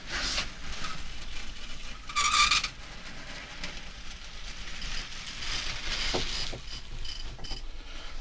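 A model railway train rolling down an incline on a layout, its wheels giving a continuous mechanical whir and rattle with a brief louder clatter partway through, heard close with no talk.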